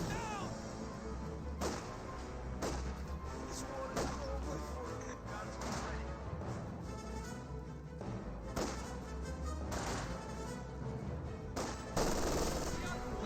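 Light machine gun fire in Company of Heroes 2: rapid bursts of gunshots crackle repeatedly over a dense battlefield din, with sharp cracks recurring every second or two.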